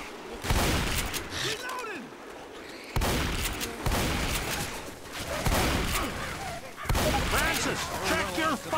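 Gunfire in the co-op zombie shooter Left 4 Dead 2, with rapid bursts of shots and clattering volleys in several loud waves, mixed with game sounds and voices.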